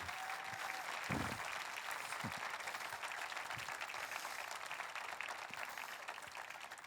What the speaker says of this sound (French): Je vais applaudir pendant 10 secondes